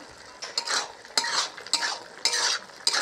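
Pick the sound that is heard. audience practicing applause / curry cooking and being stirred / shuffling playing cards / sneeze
curry cooking and being stirred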